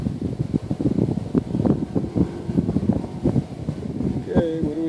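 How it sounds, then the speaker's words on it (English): Strong outdoor wind roars and buffets the microphone in uneven gusts while a V959 quadcopter flies, a dense, rumbling rush that lasts the whole time. "The wind is definitely bad."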